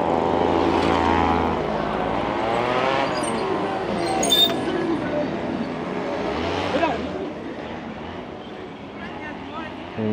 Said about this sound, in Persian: پس میبینین اینجا دوره زدن میرن دیگه این موتور.